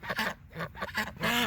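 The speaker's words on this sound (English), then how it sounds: "These ducks might be over there honking in the background." Several ducks quacking in quick succession, nasal honking calls close and fairly loud, ending in a longer drawn-out quack.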